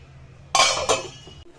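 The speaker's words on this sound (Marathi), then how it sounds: "झाकण काढून बघू भाजीचं" A metal lid comes off a pot of simmering potato, peas and cauliflower curry with two quick clinks close by, followed by a brief ringing tail.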